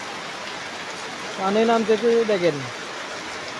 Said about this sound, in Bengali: দেখেন বন্ধুরা, কি বৃষ্টি কোনো বন্ধ নাই।